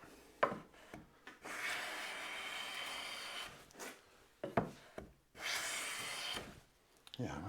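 A Japanese kanna hand plane pulls fine shavings from wood in several separate rasping strokes, each a dry hiss that starts with a sharp catch, close and quiet with pauses between.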